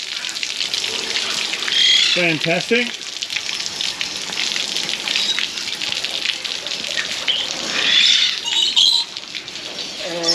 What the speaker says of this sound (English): That turns on the watering system for the birds. Look at that, fills them all up at once.